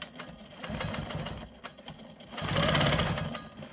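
A sewing machine doing straight line quilting on a rolling stone quilt block, its fast steady needle chatter running continuously, swelling louder toward the end.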